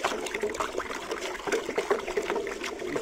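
Water is poured in a soft, fairly faint splashing stream into a mixture for treating yellowing rice paddy seedlings, continuous and without speech.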